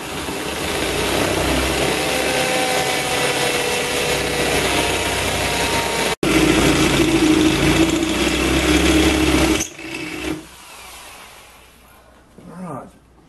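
A large carbide-tipped drill bores slowly into a terracotta flower pot at low revs, giving a steady, loud grinding whine with scraping texture that cuts off abruptly, then fades into quieter handling noises.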